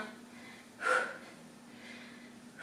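A person exhales hard during a glute exercise in a circuit-training workout, with one strong breathy puff up close and a softer breath near the end, over a quiet background.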